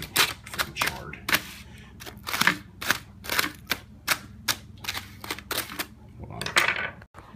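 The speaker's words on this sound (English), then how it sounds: "just cut into the tin foil" A knife slices into two layers of tin foil wrapped around baked French fries, producing a string of sharp, close crinkling and tearing bursts in an uneven rhythm, with no talking.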